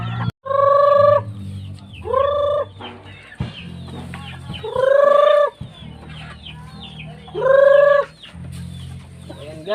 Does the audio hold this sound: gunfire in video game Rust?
no